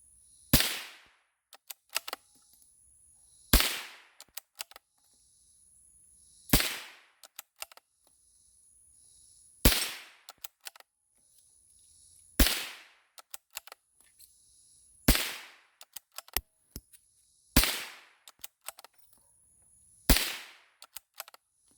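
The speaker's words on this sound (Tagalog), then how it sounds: "Rock Island Armory M14. Okay, here we go. Firing" Rock Island Armory M14 rifle firing at an outdoor range, eight sharp, evenly spaced shots roughly every two and a half seconds, each followed by short metallic clicks and rattles.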